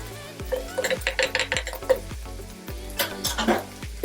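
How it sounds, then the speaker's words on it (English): Coconut oil in a hot pan on the stove gives a soft sizzle under a series of sharp, regular metallic taps and scrapes of a utensil against the pan, loud and close. "I'm adding now my oil to the pan, and this is a tablespoon of oil."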